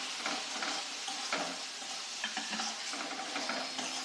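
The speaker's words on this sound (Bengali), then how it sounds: "আর একটু কষে নেব।" Kashmiri chili powder and ground black pepper fried and stirred in a pan for a fish curry, a soft, steady sizzle with rhythmic scraping strokes of a spatula, fairly quiet and close.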